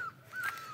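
A single brief bird call rings out in a hillside forest in Pyuthan, Nepal, clear and tonal against a quiet background.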